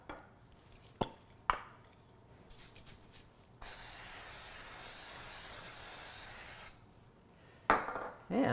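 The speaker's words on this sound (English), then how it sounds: "I'm going to spray with cooking oil" Two short clicks, then a long continuous cooking oil spray hiss lasting a few seconds onto two 8x4 loaf pans, followed by quieter shuffling and another brief spray burst.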